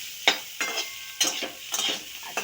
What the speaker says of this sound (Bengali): ফোড়নে কালো জিরা দিয়ে আর সবজিগুলো দিয়ে ভেজে নেওয়া হচ্ছে